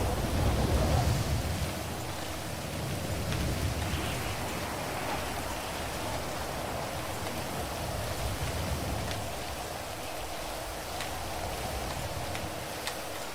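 Steady rain falling outdoors, an even soft hiss with occasional light drips and ticks, fairly quiet and continuous with no voices.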